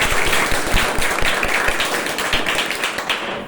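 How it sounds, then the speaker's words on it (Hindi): An audience gives a round of applause in a hall for ISRO's rocket achievements, dense clapping sustained evenly and fairly loud throughout. "मैं चाहता हूं इसरो के और इस रॉकेट के कारनामों के लिए आप लोग जोरदार एक ताली।"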